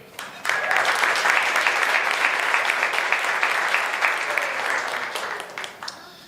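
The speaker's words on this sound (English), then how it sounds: "let's give a big round of applause for our presenting sponsor" A crowd at a March for Babies kickoff event claps loudly for a presenting sponsor, Ontario Airport, in a dense sustained burst that starts sharply and holds before slowly tapering.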